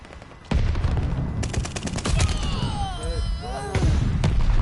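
Mortar and gunfire from Call of Duty Vanguard, a dense run of loud blasts and rapid shots with whistling projectiles, layered under a player's voice.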